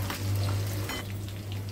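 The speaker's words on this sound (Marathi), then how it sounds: "कढीपत्त्याची पानं आहेत 4-5 ती टाकते।" Four or five curry leaves hitting hot oil with crushed garlic in a kadhai, a loud close crackling sizzle that bursts and then settles over a low steady hum.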